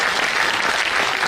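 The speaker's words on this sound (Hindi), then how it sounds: "ताली बजनी चाहिए।" A dense audience applauds at a comedy and poetry gathering, a steady close wash of many hands clapping with no gaps for the whole short stretch.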